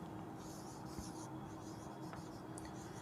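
Continuous scratchy writing strokes on a board during a Hindi genetics lesson, close and steady with a few small taps, no talking.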